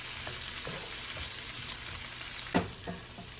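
Cherry tomatoes sizzle steadily in a hot pan, a soft continuous frying hiss with a few light knocks of stirring near the end.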